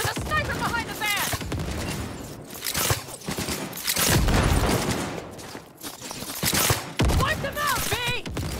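Bursts of gunfire in the Cyberpunk 2077 video game, repeated shots in a wartime firefight mixed with explosions and game music, while voices shout over the action.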